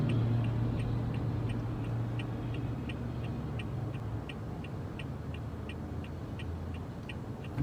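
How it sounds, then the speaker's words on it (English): A car's turn signal ticks in an even, steady rhythm inside the cabin, faint clicks over a low idling engine hum. "So I got my right blinker on"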